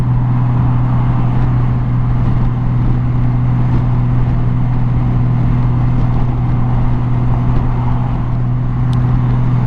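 A Honda Gold Wing GL1800 motorcycle cruises steadily on a motorway, its engine giving a constant low drone blended with wind rush, with no breaks or shifts.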